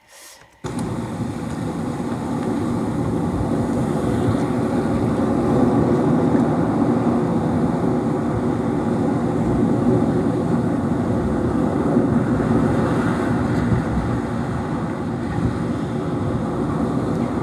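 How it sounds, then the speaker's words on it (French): A continuous, heavy roar of wind and large ocean waves breaking, loud and steady with no clear breaks. "il y a le vent et s'ajoute le son des vagues"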